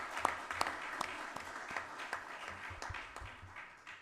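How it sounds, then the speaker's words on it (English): Moderate audience applause at a policing conference after a working group presentation, a fairly sparse mix of individual claps with a few sharper hand strikes standing out, steady across the clip. "Let's give them another round of applause"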